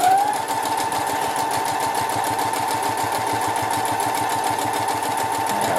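Sewing machine stitching fabric for a tissue holder, a loud, steady, close mechanical whir with rapid even needle clatter running unbroken from start to end.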